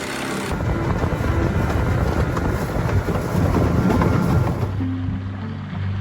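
An outboard motor pushes a small dinghy across open water on a fishing trip, a steady rough drone with water noise close by that drops away near the end.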